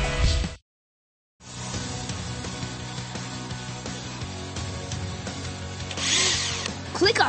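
Power tools whir and drill steadily while a helicopter rotor is repaired in the Blaze and the Monster Machines video game, a dense, continuous mechanical grind broken by a brief silence near the start and rising louder at the end.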